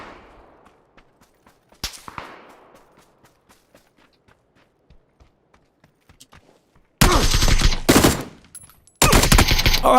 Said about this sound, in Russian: Сзади стреляет.